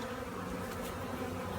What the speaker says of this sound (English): we're going to take and just turn the bees upside down on here